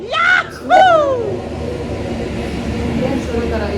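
A train passes close by in Hyderabad, a steady, fairly loud low rumble that holds through the whole stretch, with a brief voice or tonal call rising over it at the start.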